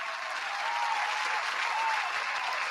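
Steady applause fills the whole stretch at an even level, with no words spoken over it and only a faint hint of crowd voices mixed in; a dense wash of many clapping hands.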